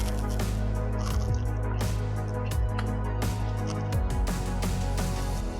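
Thick liquid fake blood drips and squishes from a dipped prop, a busy run of wet plops and splatters close to the mic, with no talking.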